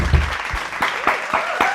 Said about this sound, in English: do you always travel with 500 screaming, adoring fans clapping for you?